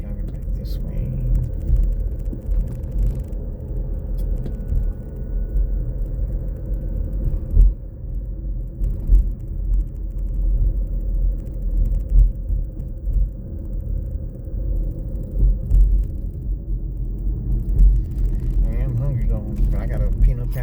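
A Ford Mustang Mach-E drives through Houston, heard from inside as a steady low road rumble and tire hum, with the driver talking over it throughout.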